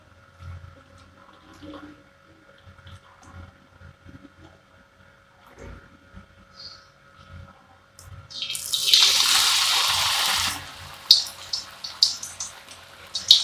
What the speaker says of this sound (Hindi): कढ़ाई में ऑयल डाला है। ऑयल हमारा गर्म हो गया। अब इसमें 1 बाय 1 मैं पकौड़े डालूंगी।